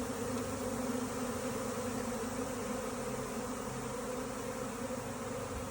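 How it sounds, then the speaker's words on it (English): A honeybee swarm moves into old, empty hive equipment stacked in a yard, producing a dense, continuous buzzing drone that stays steady and fairly loud throughout, with no voices. "There's bees everywhere."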